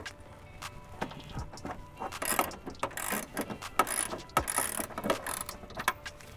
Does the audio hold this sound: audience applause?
no